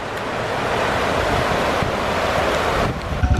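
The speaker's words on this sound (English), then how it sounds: "Look at this river." River in El Yunque National Forest, Puerto Rico, a loud continuous rushing roar with wind buffeting the microphone and no voices.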